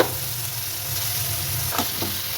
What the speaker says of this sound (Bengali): এবার এই তেলটাতে আমি লাউটুকু একটু সাঁতলে নেব।